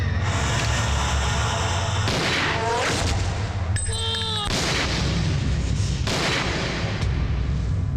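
Gunfire in a Telugu movie scene comes through as several sharp booms and metallic impacts mixed with dramatic soundtrack music, with no clear speech.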